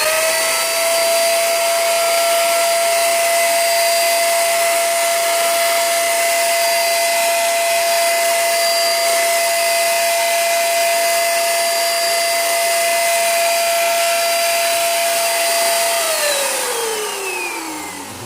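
An RYU RSE800 electric spray gun fitted with a modified nozzle and upgraded air cap sprays from about 40 cm, giving a loud, steady motor whine and airy hiss that holds for over fifteen seconds and then winds down, pitch falling at the end.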